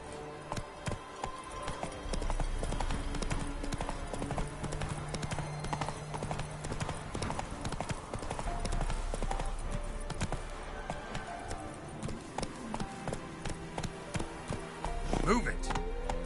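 Geralt's horse Roach walks in The Witcher 3 on PS5, hooves clip-clopping in a steady rhythm with game ambience, music and occasional voices underneath.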